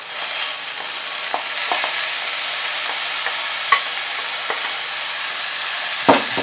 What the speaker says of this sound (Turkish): Şehriye karıştırdım, tamam. Pirinç koyuyoruz, tamam.